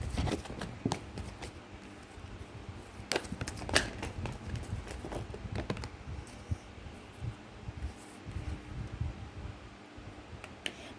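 Tarot cards are drawn from a second deck, heard as soft, quiet shuffling and slipping of card stock with a few crisp taps and flicks spread across the stretch, close by, with no speech.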